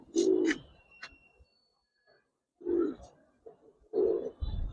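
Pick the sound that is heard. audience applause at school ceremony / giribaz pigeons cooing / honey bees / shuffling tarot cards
giribaz pigeons cooing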